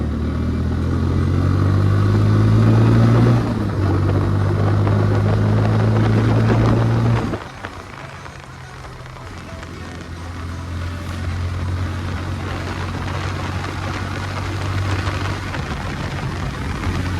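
A motorbike rides along a road, its engine droning loud and steady, with a drop in level partway through before the running motor picks back up and continues alone.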